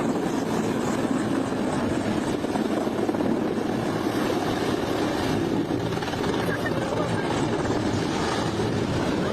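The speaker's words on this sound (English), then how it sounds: "A Mi-8 helicopter spirals out of control and slams into the ground" A Mi-8 helicopter spinning out of control produces a dense, steady roar of rotor and engine noise that stays loud and unbroken for the whole stretch, with no separate impact standing out.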